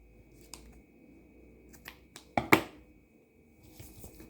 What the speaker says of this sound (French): je coupe mon excédent de corde